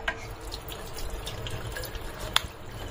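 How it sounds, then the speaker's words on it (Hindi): Water runs from a household tap while clothes are washed, a soft continuous splashing stream heard fairly close and alone, with one sharper drip or splash near the end. "पानी बंद करो।"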